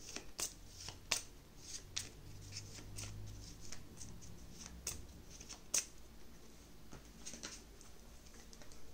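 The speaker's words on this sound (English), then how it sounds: "I'm gonna go ahead and shuffle these cards because I used all of them" Quick papery riffles and soft snaps of a deck of game cards being shuffled during a solo tabletop board game, a few sharper flicks standing out, close and fairly quiet with no talking.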